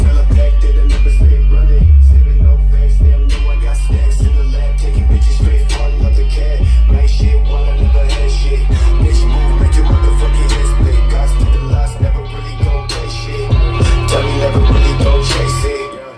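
Music pumped through Logitech Z906 computer speakers at full volume with bass maxed, heavy booming low end under a busy beat, loud and continuous.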